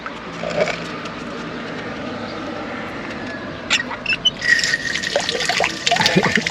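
Water trickles steadily from a public fountain in a southern town, with traffic noise and some clinks and splashes growing louder toward the end.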